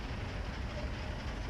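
A 120-car loaded freight train rolls across California in Train Sim World 4, giving a steady, dense low rumble with broadband rail noise that holds even and continuous throughout, with no voices.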